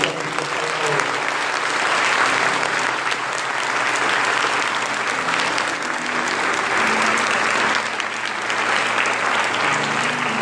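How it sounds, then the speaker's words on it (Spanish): A church congregation gives loud, sustained applause to the Lord during a Spanish-language religious service, a dense wash of clapping that holds steady and close throughout. "Vamos a dar un fuerte aplauso a nuestro Señor."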